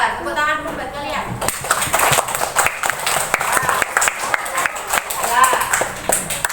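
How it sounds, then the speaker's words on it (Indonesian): Children in an Indonesian third-grade elementary classroom break into a burst of clapping, a dense patter of many small hands that starts after a quiet moment and continues steadily to the end. "Tepuk tangan dulu buat kalian."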